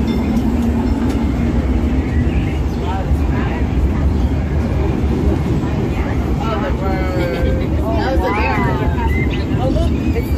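Disneyland Railroad train on a night ride, rumbling steadily and loud throughout with continuous rail and car noise, a crowd murmuring and people chatting over it, with a few brief higher whistle-like tones near the end.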